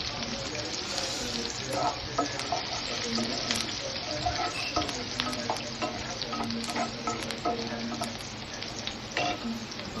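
Finely chopped green chili and garlic fry in a hot pan, crackling and sizzling steadily up close for about ten seconds, with spatula scrapes and stirring clatter throughout.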